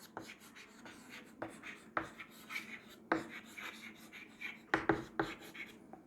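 Chalk or marker writing on a board during a Hindi-English biology lecture on mutation: a series of short scraping strokes and taps, fairly close, in irregular bursts with pauses, no speech over them.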